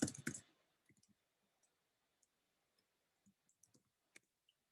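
A computer keyboard is tapped in scattered, irregular keystrokes, faint and close, with short pauses between isolated clicks after a louder burst of clatter at the start.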